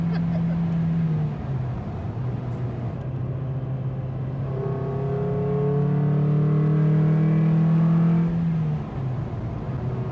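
A Mazda Miata NB four-cylinder engine drones from inside the cabin on a drive, its intake note rising and sweeping upward as the revs climb, then settling back to a steady hum.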